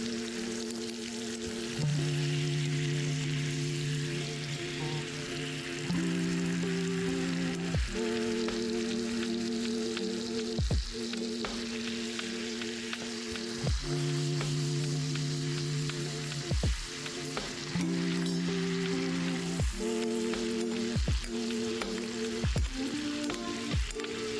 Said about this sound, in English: Place your butter and rosemary into the pan.